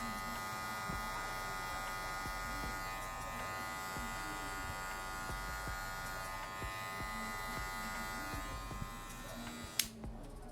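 An electric hair clipper buzzes continuously and close during a men's military-style haircut in a barbershop, a steady drone with a brief sharp click near the end.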